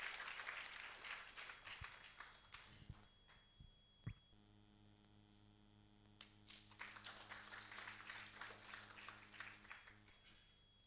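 Audience clapping in a hall at a Kisii University innovation week ceremony, bursts of applause at the start and again later, with a steady electrical hum and quiet stretch in between.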